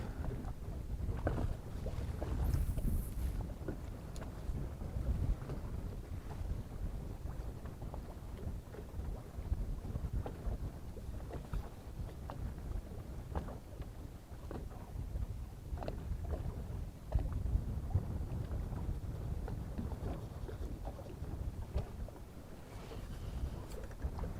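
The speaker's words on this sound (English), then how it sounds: "that wind's just gonna make this a little tough." Wind buffets the microphone while fishing for walleye from a boat, a continuous low rumbling roar with gusty swells throughout and no talking.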